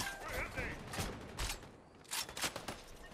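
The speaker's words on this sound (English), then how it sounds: "Oh, it's the boss shooting at the dudes." Fortnite gunfire crackles in repeated bursts of shots at moderate distance, a boss firing on enemies, with quieter stretches between volleys.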